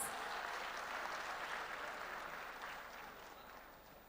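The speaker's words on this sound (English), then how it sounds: "Please encourage her with a round of applause" Applause from the audience at the Miss Nigeria 2017 pageant greets contestant Miss Ondo, a soft, distant wash of many hands clapping that holds steady, then slowly tapers off.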